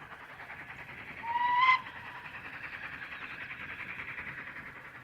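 Steam locomotive 45596 Bahamas hauling a passenger train departing Quorn and Woodhouse station: a steady rumble of the moving train with a short, clear whistle blast partway through.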